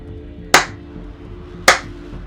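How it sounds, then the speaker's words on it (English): Two slow, sharp hand claps spaced about a second apart, crisp and close in a quiet room. "There's like four of them just like clapping."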